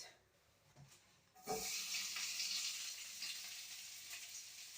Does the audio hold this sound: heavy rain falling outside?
no